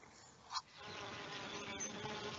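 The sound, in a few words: honeybees buzzing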